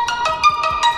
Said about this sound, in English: the default notification sound.